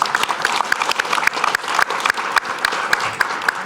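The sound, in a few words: audience applause at wine seminar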